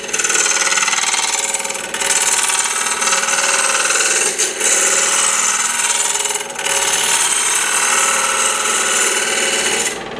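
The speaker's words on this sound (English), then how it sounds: "I'm going to rough it out and make it round. Using the spindle roughing gouge, anchor, bevel cut method." A spindle roughing gouge rounds a wood blank spinning on a lathe, a loud continuous rough chattering cut that holds steady with brief dips as the tool is repositioned.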